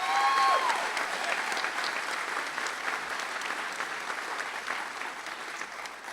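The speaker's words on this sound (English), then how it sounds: "let's give her a round of applause as well" At a graduate hooding and commencement ceremony, the audience breaks into a broad, even round of applause that holds steady and slowly tapers, a brief voiced tone heard at the very start.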